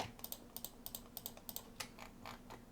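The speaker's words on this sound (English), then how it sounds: "hold down control on the keyboard and select individual files like this" Quiet, quick computer keyboard clicks in an irregular rhythm of a dozen or so presses, close and dry, with no talking.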